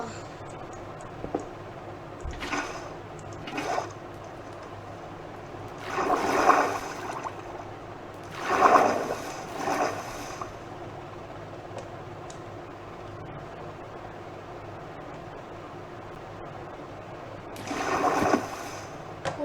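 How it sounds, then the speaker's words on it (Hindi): Water is poured in Minecraft, heard as several rushing, splashing bursts that come and go over about twenty seconds against a steady game background hum. "अबे पानी डालना था"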